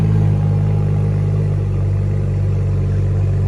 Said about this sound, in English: Dan's just started the car for us. That lovely burble from that 6-cylinder engine.